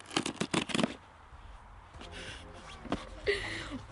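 A cardboard parcel holding an Audio-Technica ATR6250 microphone is torn open with sharp bursts of crinkling and scraping cardboard, then softer rustles and a few knocks, close and fairly quiet.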